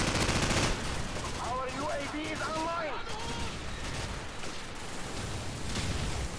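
Rapid automatic gunfire in a Modern Warfare multiplayer match, dense bursts throughout with a player's voice talking over the shots.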